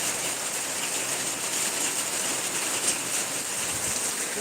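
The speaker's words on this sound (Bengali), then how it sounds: "এরকম বৃষ্টি যখন তখন হবে" Steady rain falls in an even, continuous hiss with no pauses or distinct drops standing out, moderately loud and unbroken throughout.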